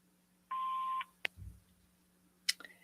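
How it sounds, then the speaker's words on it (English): An answering machine beep on a phone line, a single steady electronic tone lasting about half a second, followed by a couple of faint clicks. "Please leave your name and phone number after the beep."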